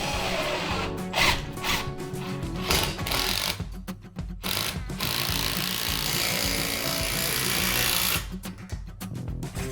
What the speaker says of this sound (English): It's faster with a drill.